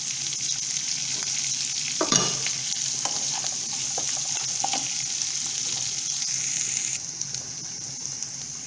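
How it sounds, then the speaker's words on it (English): Onions roasting in a pan for a spinach and amaranth leaves curry, a steady close sizzle with scraping stirs and occasional clinks from the pan, no voices. "As you can see, I am toasting or roasting the onions."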